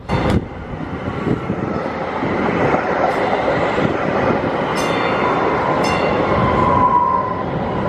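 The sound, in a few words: green line passenger train, inside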